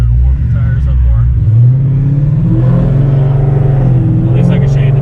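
Dodge Charger police car with a heavy build and five-speed transmission, its rowdy engine revving and accelerating loudly up close, a deep steady rumble rising in pitch, with talking over it.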